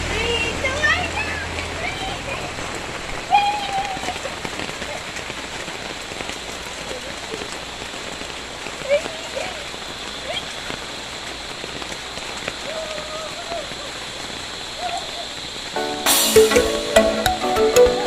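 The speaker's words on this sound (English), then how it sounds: "today my vlog is about taking a shower in the rain" Heavy rain falls outdoors as a dense, steady hiss of drops spattering on surfaces, continuous and close throughout, growing louder and splashier near the end.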